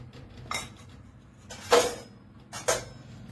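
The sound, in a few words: mixing spices and ingredients in a bowl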